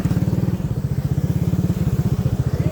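A tubewell pump engine runs steadily beside an irrigation water channel, its loud low thudding firing beats repeating rapidly and evenly throughout, with no voices over it.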